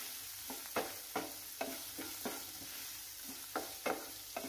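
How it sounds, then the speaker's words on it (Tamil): A spoon scrapes rhythmically through onion, tomato and masala sautéing in a pan for tiffin sambar. The quiet strokes come over a soft, constant sizzle, with no speech. "இந்த வெங்காயம் தக்காளி கூட இதை சேர்த்து நம்ம வதக்கி விட்டுடலாம்"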